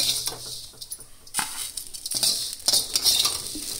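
Roasted vermicelli being scraped from a pan into a separate utensil, with close metallic clinks and scrapes of a spoon against cookware in a busy, uneven rhythm.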